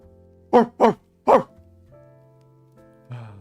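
Three sharp, close dog barks, two in quick succession and then one more after a short pause, over a low quiet background tone, followed by a softer sound at the end.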